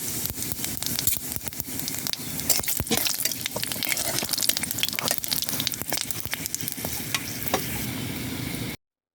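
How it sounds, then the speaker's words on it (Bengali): Cumin seeds, dried red chillies, bay leaves and whole garam masala crackle in hot mustard oil in a kadai, a loud, dense sizzle with sharp spattering pops and stirring scrapes that runs steadily and alone. "জিরে ফোড়ন দিয়ে দেব।"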